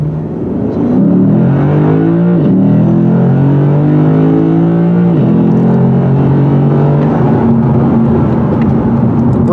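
A 2019 Lexus RC-F V-8 sports car launching hard on a 0 to 60 run on private property, its loud engine climbing through several rising gear pulls, each ending in a quick shift drop.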